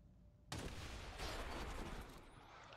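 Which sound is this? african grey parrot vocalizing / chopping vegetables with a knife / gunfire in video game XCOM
gunfire in video game XCOM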